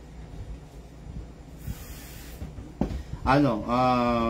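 A black nozzle spraying onto a 2011 Mitsubishi Pajero, a soft steady hiss building up and then a louder, harsher burst of spray near the end, with faint background noise.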